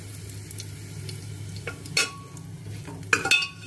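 Cumin seeds crackle in hot oil in a pot for vegetable khichdi, a faint low sizzle with a few sharp utensil clinks and scrapes near the end.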